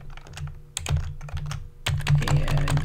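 Someone types code on a computer keyboard, tapping the tab key to fix indentation: scattered close key clicks in small bursts, then a denser run of quick keystrokes, with no talking.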